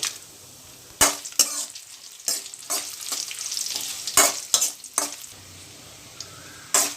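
Curry leaves and dried chili powder sautéing in a pan for Pallipalayam chicken fry, a loud close sizzle broken by repeated sharp stirring scrapes and clatters of the spoon, with no speech.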